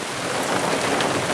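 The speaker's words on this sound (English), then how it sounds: "here comes the rain. It is teeming now." Heavy rain teems down on a wooded shore during a solo canoe trip, a loud, close, constant hiss of drops pelting the surface with no voices over it.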